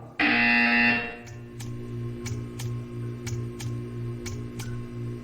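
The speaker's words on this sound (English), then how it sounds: "You will hear a buzzer." A harsh electronic buzzer from the video game Portal 2 blares once for about a second, then gives way to a steady low hum with regular soft ticking.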